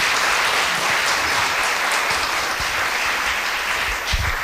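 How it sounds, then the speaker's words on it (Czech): Audience at a book launch bursts into loud, continuous applause, dense clapping from a full room held at a steady level, with a few low thumps near the end. "ten potlesk si zasloužíte i vy"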